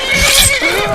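A horse in Skyrim gives a loud, close whinny, one quick wavering neigh that rises and falls within a second.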